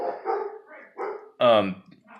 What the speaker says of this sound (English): the dogs are barking downstairs